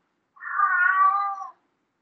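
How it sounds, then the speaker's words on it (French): An indoor cat lets out a single drawn-out meow, loud and close, about a second long, with silence before and after. "Pourquoi tu miaules encore?"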